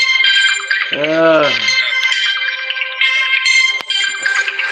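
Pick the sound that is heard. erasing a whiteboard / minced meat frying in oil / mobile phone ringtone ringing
mobile phone ringtone ringing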